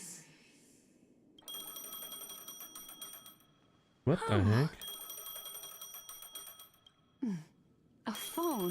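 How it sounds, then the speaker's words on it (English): A phone rings in a video game, a steady bright electronic ring repeating for several seconds, broken twice by a character speaking over it. "A phone."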